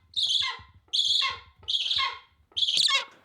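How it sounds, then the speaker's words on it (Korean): A golden eagle kept by a hunter near Lake Issyk-Kul in Kyrgyzstan gives four shrill, descending calls in a row, evenly spaced and fairly close, with nothing else heard between them. "검독수리 울음소리는 처음 듣는다"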